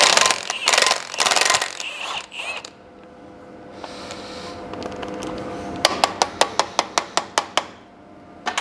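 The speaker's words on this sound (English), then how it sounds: "Should use an impact socket, really, on an impact gun anyway." An impact gun with a standard socket loosens a bolt on the rear brakes of a Bedford RL truck: a loud rattling burst, a quieter stretch, then a rapid series of sharp hammering knocks close by.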